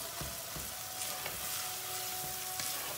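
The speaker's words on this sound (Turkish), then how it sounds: "Bu kıymayı biraz fazla kavuracağız." Minced meat for soup fries hard in a pan, a steady close sizzle broken by a few soft scrapes of stirring, with no voices.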